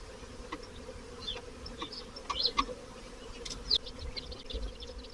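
Soft, continuous buzzing of many honeybees clustered on a hive landing board close by, with faint individual wingbeats flitting past and occasional small clicks, no voices.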